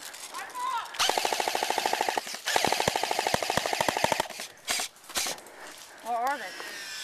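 Paintball guns firing during an outdoor attack-and-defend game at a paintball field: rapid bursts of sharp, popping shots repeat for several seconds, fairly close by, with players calling out and talking around them.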